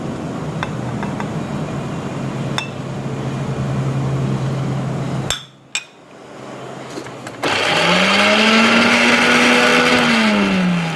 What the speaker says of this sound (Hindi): थोड़ी सी और बारीक ग्राइंड कर लूँगी इसका मैं, ताकि मुंह में ना आएगी प्याज कोफ्तों में।